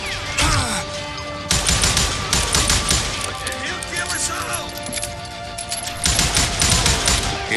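Gunfire in the Western shooter game Call of Juarez Gunslinger, dense rapid volleys of shots and impacts in bursts with ringing tones and clatter, loud and continuous, with brief game voices mixed in.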